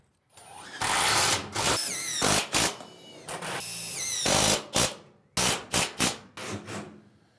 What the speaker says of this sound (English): I'm just not sure I like this drill that much.